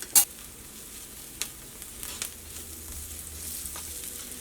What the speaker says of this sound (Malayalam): ആ മഞ്ഞൾ ഒന്നും കൂടി ഒന്ന് മൊരിയട്ടെ